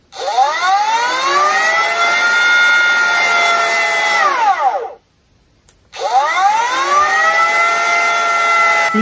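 A Greenworks G24RO 24V cordless router spins up with a rising whine that climbs to a high, steady scream, cuts out abruptly into near silence, then starts again and ramps back up to full speed.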